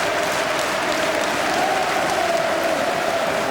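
A capacity crowd of over sixteen thousand applauds at Prenton Park during the Tranmere Rovers versus Liverpool FA Cup quarter-final, a dense, steady wash of clapping and crowd noise heard without speech.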